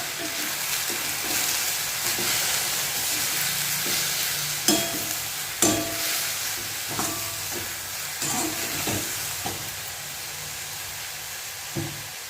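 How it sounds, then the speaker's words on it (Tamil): Chopped banana flower with turmeric powder sautés in hot oil in a pan, a steady frying sizzle broken by occasional scraping knocks from a stirring spoon. "இது கொஞ்ச நேரம் எண்ணெயிலேயே வதங்கட்டும்."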